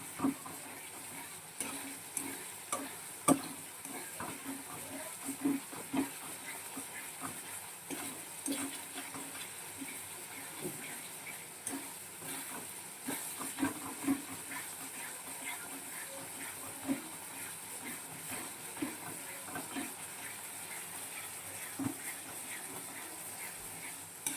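Spice paste of garlic and cumin sautés quietly in a pan, making a faint soft sizzle with irregular scraping and tapping from a stirring spoon.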